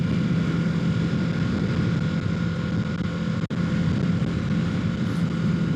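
A 2025 Kawasaki Ninja 650 motorcycle engine holds a steady drone at about 4,500 RPM while riding, an even, continuous hum with wind rush and no speech.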